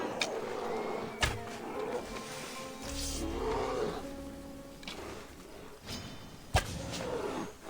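A bear roars in a video game, with several low growling bursts spread over the stretch, some louder thumps and sharp hits between them, all fairly quiet overall.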